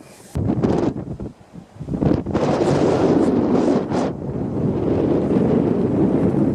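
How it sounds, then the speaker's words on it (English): Strong gusty wind buffets the microphone, roaring in uneven bursts and settling into a constant heavy rush. "it's a bit windy"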